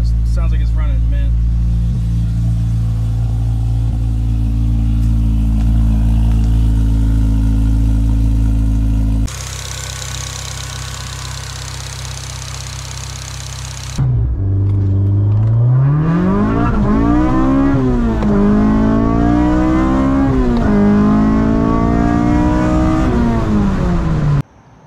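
A Honda K-series car engine with a wrinkle-red valve cover and a tucked vacuum line idles with a loud, steady low hum, then revs in several rising and falling sweeps, recorded close.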